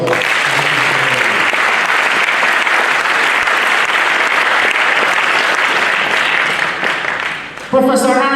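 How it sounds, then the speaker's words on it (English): Dense, loud applause from the audience at a university inaugural lecture on reproductive and sexual health, sustained for several seconds before fading as a voice begins speaking at the end. "A round of applause for her."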